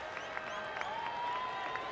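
A small crowd applauding and cheering in the eighth inning of a Cardinals at Padres baseball game, a steady, fairly quiet wash of clapping heard from a distance.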